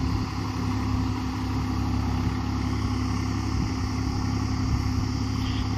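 A Swraj 744 XT tractor pulling a rotavator through wet, waterlogged field soil, its diesel engine droning steadily and loud close by with a constant low hum throughout, no voices.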